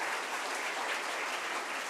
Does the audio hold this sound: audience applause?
yes